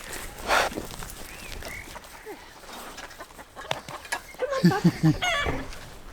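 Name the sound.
chickens clucking on a farm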